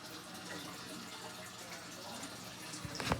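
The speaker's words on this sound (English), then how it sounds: "the pump and filter, which is located here, that make oxygen and bubbles in the water" An aquarium pump and filter keep up a steady, faint wash of bubbling water, with a brief louder splash at the very end.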